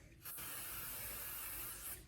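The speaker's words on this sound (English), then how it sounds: "We're gonna use the spray." Spray adhesive is sprayed onto a woodworking jig for a door striker plate in one steady, close, hissing burst lasting about two seconds before cutting off.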